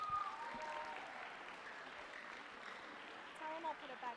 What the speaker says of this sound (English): Can we give Coach Woodard a big round of applause?